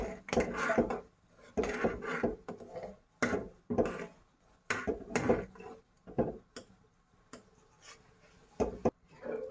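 A spoon stirs sago kheer with cardamom powder in a pot, giving a run of close, irregular scraping and knocking strokes separated by brief pauses.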